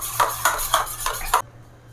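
Yogurt mixed with a little milk is whisked briskly in a bowl for cucumber raita, giving about six quick, rhythmic scraping strokes close up before it stops abruptly.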